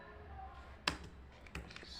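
A computer keyboard gives a few quiet, sparse keystroke clicks, with two sharper taps standing out over faint background hum.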